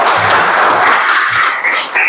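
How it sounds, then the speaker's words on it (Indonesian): A classroom of students applauding together, a loud, continuous burst of clapping close by that thins slightly toward the end. "Tepuk tangan untuk kita semua"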